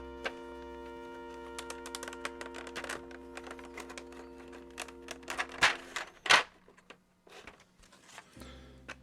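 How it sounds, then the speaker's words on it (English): Keycaps pressed onto a mechanical keyboard, a run of scattered plastic clicks and snaps, a few louder ones, over a steady low electrical hum that stops briefly near the end. "let me throw these keycaps on first"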